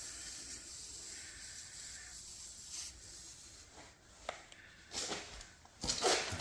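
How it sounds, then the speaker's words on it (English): Steam from a heated wet rag hisses steadily against damaged wood, a soft broadband rush with brief rubbing scuffs and louder bursts near the end. "Just heat up get that steam going."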